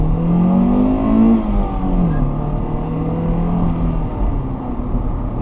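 A 2002 Honda Civic Si engine heard from inside the car at night, revving up and dropping as the driver works through notchy gear shifts, with a steady loud drone throughout.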